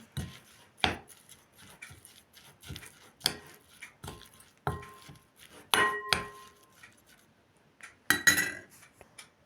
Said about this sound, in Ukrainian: Беремо ложку і все це добре перемішуємо